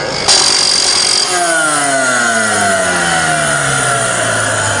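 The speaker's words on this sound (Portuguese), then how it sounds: "Eu estou usando a esmerilhadora para fazer a limpeza" An angle grinder cleaning a steel weld joint gives a loud, close burst of grinding whine, then the motor winds down with a steadily falling pitch that fades away.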